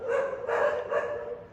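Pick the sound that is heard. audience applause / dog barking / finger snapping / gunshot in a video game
dog barking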